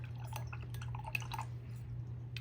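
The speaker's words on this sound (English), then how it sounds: "So I'm going to dip my paintbrush" Light liquid drips and splashes come from a paintbrush being dipped into water, soft and close over a steady low electrical hum.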